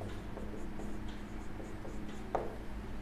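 Pen scratching on paper while a maths induction solution for class 11 is written out, soft intermittent strokes close by over a steady low background hum.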